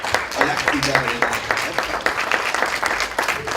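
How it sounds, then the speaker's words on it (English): Applause from an audience honoring a youth group at a community program, moderately loud and steady for a few seconds, with voices talking over it. "So we want to give them a round of applause."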